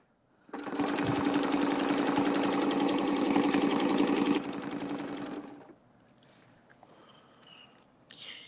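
A sewing machine stitches a quilt under foot control, a steady close whirring run of about five seconds that slows and stops, followed by a few faint clicks.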